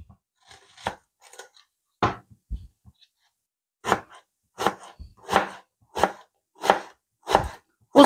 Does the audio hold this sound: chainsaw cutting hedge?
no